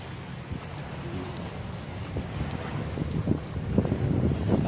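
Steady wind buffets the microphone outdoors by the sea, a continuous rushing noise with faint low rumbles and no clear voices.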